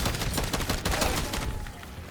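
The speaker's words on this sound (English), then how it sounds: "See how many bullets it took to kill that Hellhound?" Rapid gunfire in the Modern Warfare Zombies video game, aimed at a Hellhound: a dense, loud, continuous burst of shots that thins out toward the end, with no voices.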